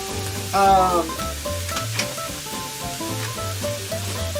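Vegetables for a meatloaf sautéing in a pan, a steady close sizzle with stirring clatter and a louder burst of frying near the start, with no talk.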